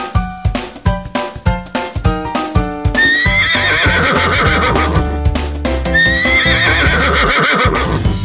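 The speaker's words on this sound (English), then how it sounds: "Horse." A horse neighs loudly in two long, shrill whinnies, following a run of rhythmic clip-clop hoofbeats at the start. The sounds are close and clear, and there is no talking.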